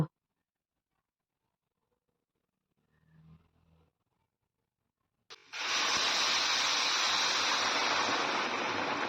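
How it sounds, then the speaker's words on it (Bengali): Water is poured into a pan of green banana curry. After quiet and a faint clatter, a loud, steady rushing pour begins abruptly and continues to the end. "এবার এখানে আমি জল দিয়ে দেব"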